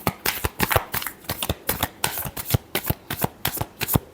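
Tarot cards are shuffled by hand in quick, close, regular riffles, a crisp flurry of card slaps repeating steadily with no talking.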